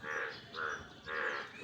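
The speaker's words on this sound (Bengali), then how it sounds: "খুব ব্যাং ডাকতেছে।" A chorus of frogs in a wet garden after rain makes three close, rhythmic bursts of throaty croaking, alone and fairly loud.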